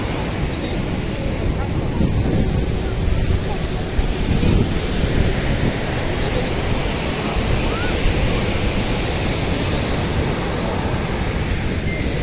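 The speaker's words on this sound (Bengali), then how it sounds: "আমি আর মা এখন এসেছি একটু সমুদ্রের পাড়ে।" Ocean waves break on the seashore at Puri in a constant, loud broadband roar, mixed with gusty wind buffeting the microphone, filling the whole stretch without pause.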